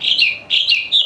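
A murai bird sings a quick series of bright, high chirping phrases, three short bursts in about a second, close and clear with no other sounds.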